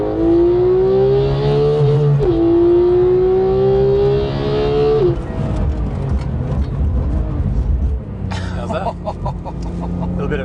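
A Porsche 911 GT3 (991.2) engine revs hard to 9,000 RPM through climbing PDK gears with the exhaust opened, its pitch rising in long sweeps before easing off into rumbling and tire noise.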